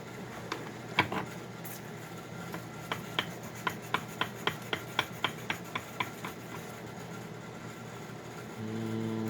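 Rhythmic rasping strokes, about a dozen evenly spaced, as a machining nub is filed off a part, fairly close and moderately loud over a low background hum that swells near the end.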